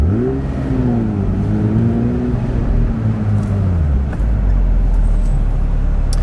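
Porsche 911 GT3 engine drones loud and close in highway traffic, its pitch sweeping up and easing back down before settling into a steady rumble with road noise.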